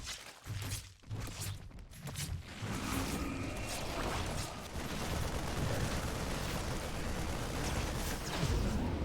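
Liberator aircraft firing during a StarCraft II match: a dense, continuous barrage of explosive bursts and booming impacts, loud and sustained across the whole stretch with no talk.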